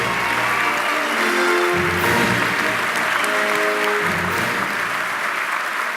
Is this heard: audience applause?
yes